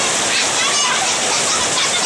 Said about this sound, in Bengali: প্রচুর বৃষ্টি হচ্ছে আমাদের গাজীপুরে